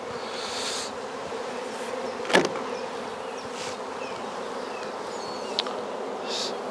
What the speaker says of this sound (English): just give them a bit of smoke just to get them off the top so that we don't crush bees